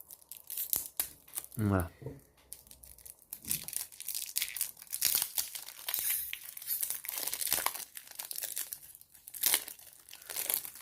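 Plastic shrink-wrap being torn and crinkled off the box of the board game Les Ruines perdues de Narak, a sharp rip followed by scattered crackling handling noises close up, with someone talking over it.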